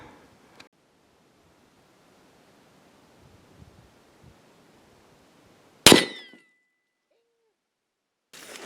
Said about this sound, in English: Now we'll see if I'm good enough to hit just that 1/4 inch steel plate